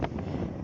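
Cool wind buffets the microphone during a motorbike ride between Goalpara and Bongaigaon, a brief, loud, steady rush.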